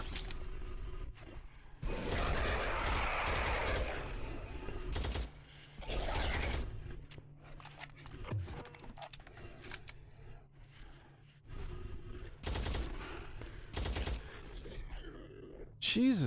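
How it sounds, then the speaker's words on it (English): Machine-gun fire in the PC horror game FOBIA: St. Dinfna Hotel, heard as several short automatic bursts at irregular intervals, loud and sharp against a quieter, hollow in-game background. "Jesus, this machine gun"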